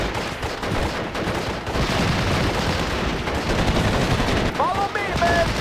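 Dense machine gun fire rattles continuously in the Normandy 1944 battle of the video game Steel Division Normandy 44, loud and rapid bursts with other gunfire, mixed with faint voices.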